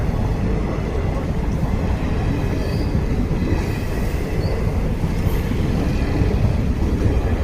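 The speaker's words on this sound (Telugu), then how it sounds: "రేపల్లి వెళ్తున్న రైలు చూస్తున్నాం" A passenger train bound for Repalle rumbles past in a continuous, fairly loud roar with a faint high squeal of wheels. No one speaks over it.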